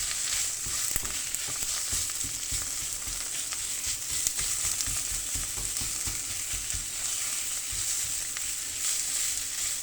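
Minced meat frying in a pan, a steady hissing sizzle with faint crackles and occasional light stirring, continuous and close.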